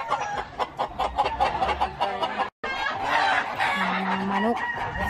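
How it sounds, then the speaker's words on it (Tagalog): Chickens cluck and squawk busily, with a rooster's crow rising near the end, all close and fairly loud with a brief gap midway. "Mga manok."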